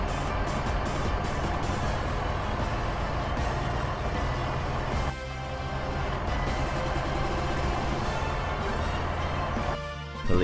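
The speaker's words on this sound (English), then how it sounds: "Airport rescue truck." A heavy airport rescue truck engine drones steadily and loudly close by, with a brief dip midway and a hiss of air brakes near the end.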